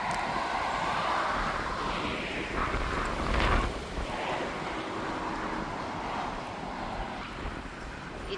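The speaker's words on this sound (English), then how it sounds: "So windy, guys." Wind blows steadily outdoors, a broad continuous rush buffeting the microphone, with a stronger gust midway.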